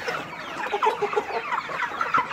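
Tiger chickens cluck in short, overlapping bursts while feeding on fermented corn, a small flock close by with no voices.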